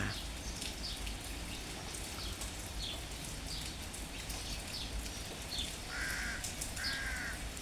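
A few short crow caws ring out near the end over steady outdoor noise, with a light patter like rain throughout.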